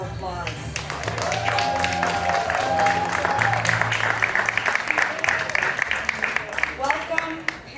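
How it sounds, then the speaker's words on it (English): Audience applauding graduates at an elementary school graduation ceremony, sustained clapping from a crowd, with a voice speaking over it near the start and end. "Graduates, another round of applause"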